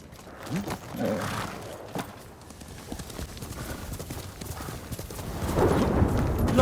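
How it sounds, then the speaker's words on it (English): Hooves clip-clop in a steady rhythm, a horse moving at pace in the video game Ghost of Tsushima, with the hoofbeats growing louder and busier toward the end. "You're a good horse, Nobu."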